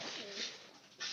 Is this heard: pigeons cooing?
yes